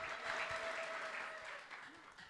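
Congregation clapping and ululating in praise at an Ethiopian church service, a steady dense wash of applause with a sustained high trilling tone through the first part, fading slightly toward the end.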